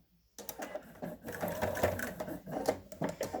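A sewing machine stitches a lap pad block in quick bursts of rapid mechanical needle chatter, close and fairly quiet, with brief pauses between runs.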